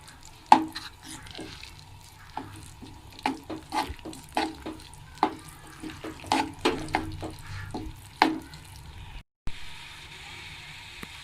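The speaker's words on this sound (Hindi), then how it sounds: "अब इसको हम अच्छे से मिक्स कर लेंगे।" A spoon stirs naan halwa tinted with zarda food colour in a pan, giving a run of irregular close scrapes and clacks with a soft sizzle underneath and no talking.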